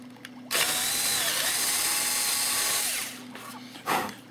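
Power drill enlarging a bolt hole for a blind nut while building a Phoenix Models Sukhoi Su-31 model plane: a loud, steady whine lasting about two and a half seconds, its pitch dipping under load, then a brief second burst.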